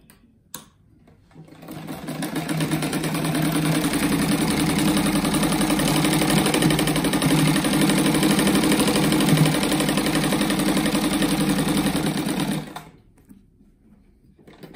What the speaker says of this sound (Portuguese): agora eu vou costurar um no outro aqui